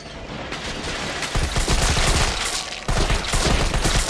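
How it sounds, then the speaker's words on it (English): Rapid gunfire in a Resident Evil video game, with dense bursts of loud shots in quick succession, near and continuous, with a brief drop in intensity partway through and no voices. "Gun sounds in this game are like a bit off."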